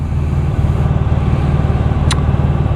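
A 2010 Honda VFR1200F with a dual-clutch transmission, ridden at night, produces a steady, close engine drone that stays even throughout, with one brief high chirp near the end.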